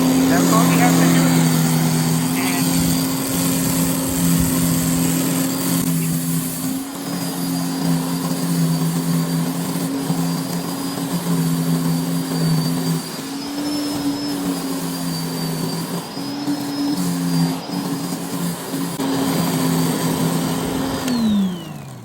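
A dethatcher lawn machine runs on grass with a steady droning engine hum and a slight rise and fall in pitch throughout, close and loud, with a voice heard at times.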